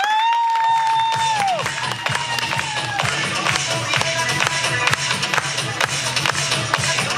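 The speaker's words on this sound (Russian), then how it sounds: "Аплодисменты, дамы и господа." A hotel entertainment audience in Turkey claps and cheers loudly, a busy crowd sound with shouts and rapid claps, opening under a gliding synth tone and continuing strongly to the end.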